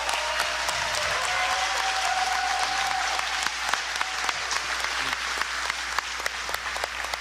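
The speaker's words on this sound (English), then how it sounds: "So please give them a round of applause." A crowd at the Legends Masters Championship 2022, a fitness competition, applauds loudly and steadily; sharp individual claps stand out as the ovation thins toward the end, with a faint voice early on.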